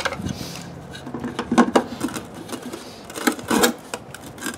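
A plastic catch basin fitting snapping into place: a few sharp plastic clicks and clacks at close range, brief and fairly crisp over faint background noise.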